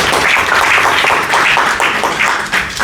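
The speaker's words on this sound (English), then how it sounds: "Clap for Jesus." A church congregation claps together, a dense, steady wash of many hands close by that runs the whole time with small swells and no voices on top.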